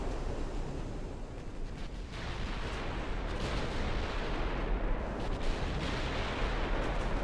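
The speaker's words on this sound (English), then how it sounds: "We're shooting the light cruiser now, anyway." Naval artillery rumbles in Ultimate Admiral Dreadnoughts as ships fire on a light cruiser, a continuous heavy booming wash with sea-like noise, steady and loud throughout with no talk.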